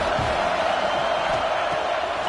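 Steady roar of a large football stadium crowd during a college game, a dense continuous wash of cheering and noise with no distinct voices standing out.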